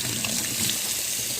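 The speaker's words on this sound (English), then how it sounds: "Let me rinse my hands off." Tap water runs steadily into a kitchen sink as hands are rinsed during breakfast preparation, a soft, even splashing stream with no voices.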